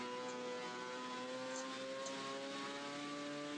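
Race car engine in an Assetto Corsa mod holding a steady high whine with layered harmonic tones, accelerating continuously without letting up, loud and alone.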